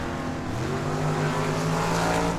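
Drag racing cars roar at a Tucson Dragway launch, engines rising in pitch with a loud, close, steady drone and no speech over it.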